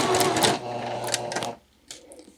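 A sewing machine runs a short burst of stitching for a back tack, a loud, fast mechanical whir close up that stops abruptly, followed by a faint click.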